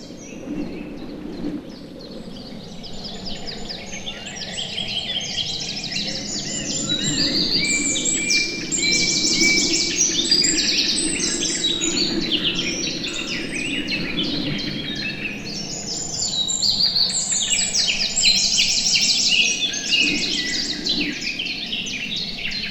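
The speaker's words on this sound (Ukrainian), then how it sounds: "послухаємо шум вітру і спів пташок" Birds sing in a forest with wind: many chirps and trills overlap at a moderate distance above a steady, broad rush of wind, with no voices, throughout.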